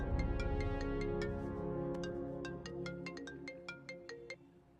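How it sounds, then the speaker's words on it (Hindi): A phone rings with an incoming call in a Hindi-dubbed film scene, a bright repeating electronic ringtone pattern playing alone, clear and fairly quiet, for about five seconds. "तुम्हारे लिए कॉल है"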